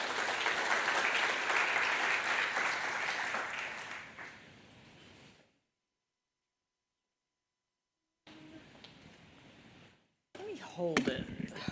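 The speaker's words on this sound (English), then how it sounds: "let's give Ann a round of applause" An audience at a public forum on flood resilience in Virginia claps in a loud, dense burst that tapers off over about five seconds, followed by silence and then faint handling noise and clicks.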